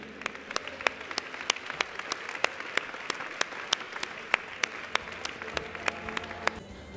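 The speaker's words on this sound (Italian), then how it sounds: "Salutiamo con l'applauso Rossella Librizzi e Andrea Schillaci." Audience applause at a tennis gala evening honours the mixed doubles winners, with individual sharp claps standing out clearly over a soft crowd bed, fairly close and evenly paced.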